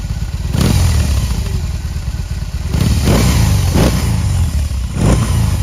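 A BMW R18 motorcycle engine revs repeatedly, several throaty blips rising and falling over a loud rumbling idle, close by.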